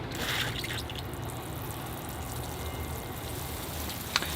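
Water poured onto a bonsai plant while it is prepared for winter, a steady soft trickle and patter of drips into soil, close and continuous, ending with a single sharp tap.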